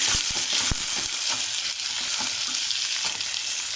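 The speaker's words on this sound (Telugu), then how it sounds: "ఇప్పుడు ఆనియన్స్, మిర్చి వేసేసుకుందాము. బాగా బ్రౌన్ కలర్ వచ్చేవరకు ఫ్రై చేసుకుందాము." Onions and green chillies fry in hot oil in a pan, making a steady close sizzle with a few sharp clinks and scrapes near the start. No one speaks.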